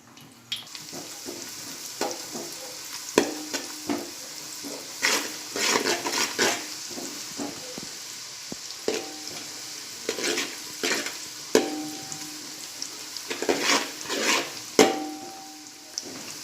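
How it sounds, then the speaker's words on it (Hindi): Pistachios frying in real ghee in a pan while being stirred, with a bright crackling sizzle and intermittent scraping and clinking strokes over about sixteen seconds, without voices. "ये सब जो ड्राई फ्रूट्स हैं मैं असली घी में तल रही हूँ।"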